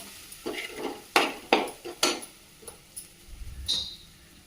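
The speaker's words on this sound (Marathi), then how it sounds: "छानपैकी मसाले आधी परतून घेऊया" Spices and cauliflower sautéed in a pan over lowered heat, with garam masala added: a run of close, distinct spatula scrapes and stirring strokes over a faint sizzle, with no talking.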